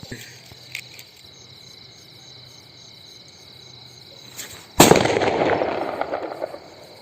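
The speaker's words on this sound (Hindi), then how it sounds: "अब जलाते हैं सुतली बम को, सुतली बम कैसा फटता है।" A sutli bomb, the twine-wrapped Diwali firecracker, bursts with one loud sudden blast after a quiet stretch of crackling background, its noisy roar trailing off over about two seconds.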